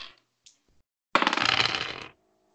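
Dice roll for a tabletop horror role-playing game, a single brief rattling clatter of about a second across the table surface, preceded by quiet room sounds and followed by silence.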